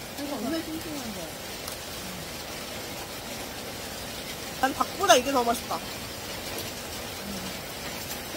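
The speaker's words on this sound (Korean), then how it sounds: "근데 비가 와가지고" Steady rain falls outside an eatery on a mountainside 700 m up, a soft continuous hiss throughout with dishes clinking briefly midway while people talk and eat.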